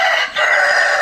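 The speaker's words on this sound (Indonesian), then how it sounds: "Nah, dan ini adalah ayam-ayam saya." Free-range village chickens with a rooster crowing, a loud close crow with a brief dip in the middle, heard alone without talk.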